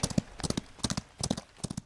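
A horse's hooves clip-clopping in repeated rhythmic bursts of four or five strikes, crisp and fairly close, with no talk over them.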